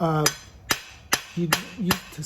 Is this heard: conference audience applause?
no